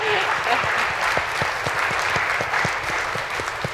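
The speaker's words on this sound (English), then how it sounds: "I also applaud them." An audience applauds the government at a Middle East vegetarian congress, a steady dense wash of clapping that holds evenly for the whole stretch, with faint voices underneath.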